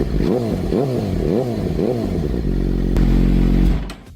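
A Suzuki GSX-R 600 motorcycle engine running close by, with a loud, rough, pulsing idle that dips and rises, settling into a steady drone before cutting off at the end.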